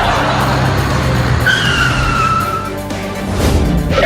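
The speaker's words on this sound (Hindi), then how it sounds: "बाहर गाड़ी लेकर आ गया हूँ" Cartoon car arriving in a comedy animation: a loud, close engine roar with a squealing tire skid sliding downward in the middle, then the motor surging again.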